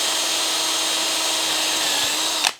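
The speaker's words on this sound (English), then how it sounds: "And I can drill both of them at the same time here." A power drill runs steadily while boring holes through a model railroad backdrop, one continuous close whine that cuts off abruptly near the end.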